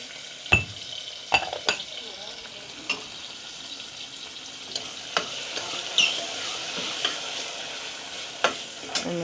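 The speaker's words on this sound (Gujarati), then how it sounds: "તો આપણે ગવાર નખાઈએ છીએ અને અહીંયા નમક પણ" Cluster beans (guar) frying in a pan with salt, stirred with a utensil: a steady close sizzle broken by repeated sharp scrapes and clinks of metal against the pan, with no talking.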